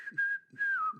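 A person whistles a short tune alone: a clear, close, wavering melodic line broken by brief pauses.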